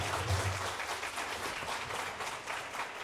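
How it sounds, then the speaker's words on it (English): Audience applause at a property investment talk in Kota Kinabalu, a steady wash of clapping from a crowd, fairly quiet and even throughout, with a low murmur underneath. "Let's give him a big round of applause"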